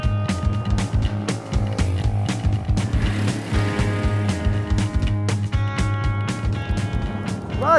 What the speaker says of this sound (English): You've got that lovely thrum from the single cylinder unit in the background